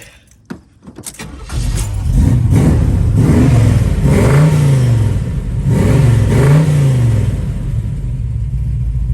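A 1970 Chevrolet Camaro with a B&M shifter and shift kit starts up and settles into a loud, close rumbling idle, then is revved in two rising and falling swells before dropping back to idle.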